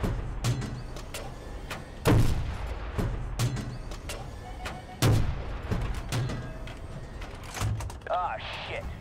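Battlefield game combat with gunfire and heavy weapon blasts, several loud sharp bursts around two and five seconds amid ongoing battle noise, with voices speaking over it.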